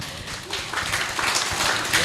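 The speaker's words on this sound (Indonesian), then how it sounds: "boleh tepuk tangan" Studio audience clapping on cue for a family-planning stunting-reduction program in Tulungagung, a brief, even burst of applause with a voice partly over it.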